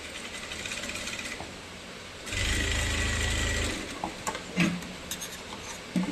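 A sewing machine stitches fabric for a crop top in one steady run of about a second and a half midway through, with quiet fabric handling and small clicks before and after.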